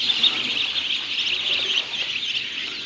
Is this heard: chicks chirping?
yes